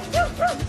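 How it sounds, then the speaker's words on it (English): A dog gives two quick, close, high yipping barks with a whimpering edge, one right after the other, heard clearly with no talking. "I walk past these dogs every day, and Shadow always tries to attack them."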